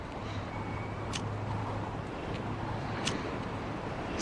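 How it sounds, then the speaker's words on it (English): Steady wind rushes and buffets outdoors, a broad low roar with a faint engine-like hum underneath and a couple of brief gusty thumps against the microphone. "It's too windy."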